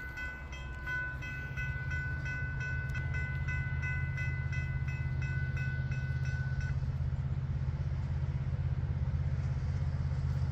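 An eastbound intermodal freight train rumbles past close by, a steady heavy roar of rolling cars, with high ringing tones fading out midway.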